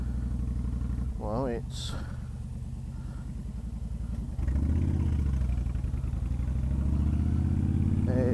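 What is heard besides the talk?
2013 Honda Fury V-twin motorcycle engine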